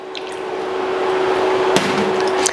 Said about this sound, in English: So maybe another little bit of water goes in.